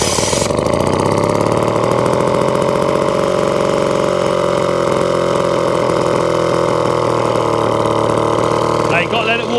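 Atco Midget lawnmower with a Villiers two-stroke engine running on half choke after a kick start, a loud, close, steady buzzing idle that holds throughout with a fast even putter, with a brief clatter near the end.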